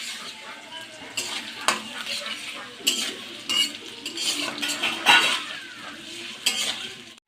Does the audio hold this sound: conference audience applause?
no